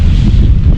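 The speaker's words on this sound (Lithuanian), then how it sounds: "Yra sunku išlaikyti, kai kartais vėjo gūsiai duoda." Strong wind gusts on the North Sea coast roar across the microphone, a loud, constant low rumble with no break and no voices.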